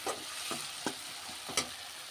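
Raw prawns frying with tomatoes in a pan for a Telugu okra-and-prawn dish: a steady close sizzle with a few soft, evenly spaced stirring knocks.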